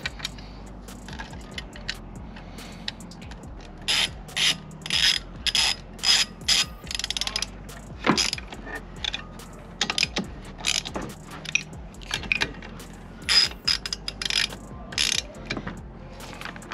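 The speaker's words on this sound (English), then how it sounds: "Put those screws, those bolts back in." A ratchet tightens bolts on an ARB twin air compressor mount in a Toyota Tacoma. Quick bursts of clicking pawl come in a stop-start rhythm with short pauses between strokes, close but fairly quiet, with no speech.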